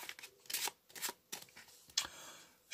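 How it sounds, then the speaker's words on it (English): A deck of playing cards is riffled and shuffled by hand at close range, several crisp bursts of card flutter with brief pauses between them. "So just peel the top and bottom cards off together, then shuffle everything else onto the top of it."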